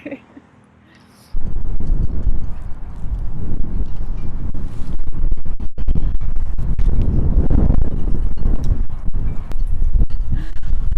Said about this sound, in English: Okay, still windy.